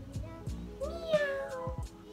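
A human voice imitates a cat's meow with a drawn-out, rising and falling cry, heard alone and close with a few soft thumps around it.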